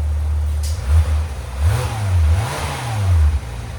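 A 2018 Porsche 911 GT3 RS with a 4.0L flat-six, custom X-pipe and straight pipes, revs several times up close, a deep, rumbling rise and fall of engine notes as it pulls in to park.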